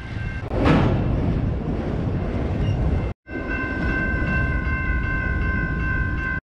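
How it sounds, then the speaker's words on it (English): A long freight train rolls through Gainesville, Texas, heavy rumble of wheels and cars continuing throughout, with a sustained horn-like tone sounding in the second half. "there's a very long freight train chugging through town"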